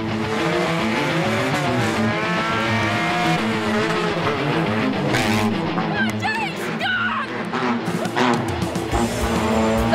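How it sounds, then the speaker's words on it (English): Cars roaring together in a banger race, with a steady dense engine drone, revving and occasional tire squeal, plus a voice talking over the noise throughout. "love a good banger race."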